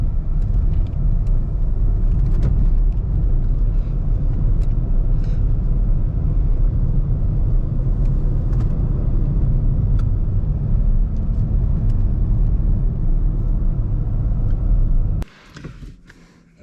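A VW Virtus MSI with manual gearbox pulls in fourth gear, a steady, loud low engine drone and road rumble holding for about fifteen seconds before cutting away abruptly.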